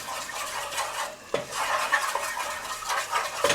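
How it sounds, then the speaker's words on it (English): Flour being stirred into a pan for a macaroni and cheese sauce makes repeated scraping, swishing strokes with a light sizzle and occasional utensil knocks against the pan, close and with no talking. "Let's give that a little stir"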